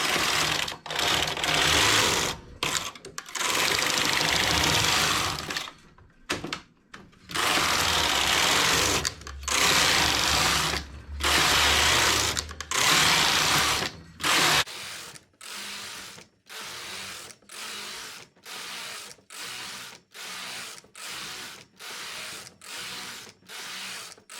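A knitting machine carriage sweeps back and forth across the needle bed, knitting rows of looser stitches for a summer top. Loud, steady mechanical whirring comes in repeated passes separated by short pauses, and the later passes are quicker and lighter.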